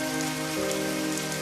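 Steady, dense rain falls in a cartoon, a continuous hiss of drops on surfaces with a low tonal hum underneath, heard without talk.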